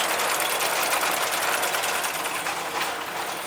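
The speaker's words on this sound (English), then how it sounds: "this is a Resina U40 capper. A very robust, high-speed capper rated for 150 bottles per minute" A Resina U40 automatic bottle capper, a high-speed machine with four tightening wheels, runs with a dense, steady mechanical whir and rapid chatter, loud and close throughout with no talk.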